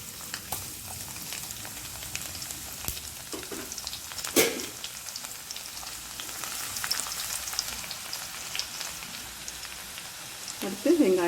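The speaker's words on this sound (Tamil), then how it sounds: "இப்போது எண்ணெய் சூடாயிடுச்சு. இதில் சீரகம், பொரிஞ்சவுடனே பூண்டு," Cumin seeds and garlic frying in hot oil for a creamy wheat tomato pasta, giving a steady soft crackling sizzle with scattered pops and a brief stir.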